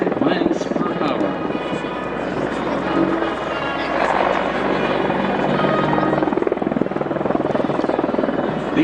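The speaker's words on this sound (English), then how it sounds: "he'll transition into rearward flight and fly the helicopter backwards up to a speed of 55 miles per hour" An Apache attack helicopter flies backwards during an air show at the Reno Air Races, its loud, steady rotor and turbine roar filling the whole stretch at close range, with an announcer's voice carrying over it.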